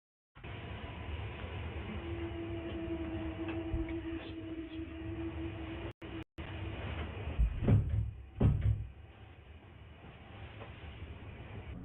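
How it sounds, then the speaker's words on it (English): Knocking behind a door, a few heavy thuds in two close bursts over a steady rumbling background hum, loud and near. "then knocking is heard next to him"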